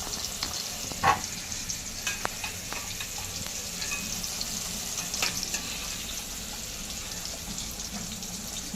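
Potato pieces frying in hot oil in a pan for a Surti undhiyu, a steady close sizzle and crackle throughout with a few stirring clinks and scrapes, no voices.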